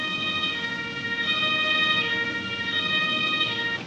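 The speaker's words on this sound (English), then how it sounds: "The ambulance is a transport vehicle for paramedics and injured individuals." An ambulance siren from the emergency-services video game Emergency wails steadily and loudly throughout, its rising and falling tone sustained without pause and with no talk over it.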